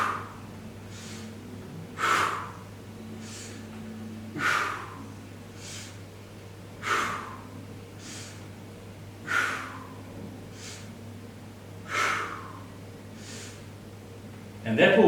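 Loud, regular inhales and sharp exhales during a plank workout with side twists, repeating about every two and a half seconds, close to the mic.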